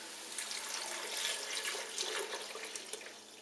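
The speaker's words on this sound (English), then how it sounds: "we're going to take our broth here and put all of it" Broth pours into a pot of homemade cream of vegetable soup in a soft, steady liquid splash and gurgle, close and fairly quiet, with no talking.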